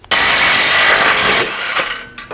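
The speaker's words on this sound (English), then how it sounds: "I'm gonna start with the 3/8 impact." A 3/8-inch impact wrench working rusty exhaust nuts off a 2006 Mitsubishi, a loud close rattling burst running steadily for over a second and then trailing off with a few short hits.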